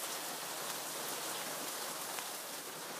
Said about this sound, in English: The umbrella's filled with hail.